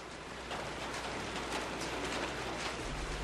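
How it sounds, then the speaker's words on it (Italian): Raindrops patter steadily on a sheet metal windowsill under an overcast sky, a soft continuous scatter of taps without pause. "si sentivano gocce di pioggia picchiettare sulla lamiera del davanzale"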